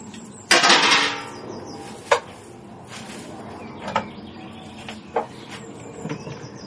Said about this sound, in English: So we're going to put the lid on and leave that for an hour and a half.